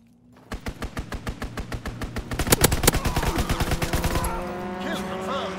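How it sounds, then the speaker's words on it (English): An enemy strafing run in Call of Duty: WWII, a fast rhythmic volley of loud automatic gunfire that builds into dense overlapping shots and impacts before fading into rumbling debris. "Enemy strafing run inbound."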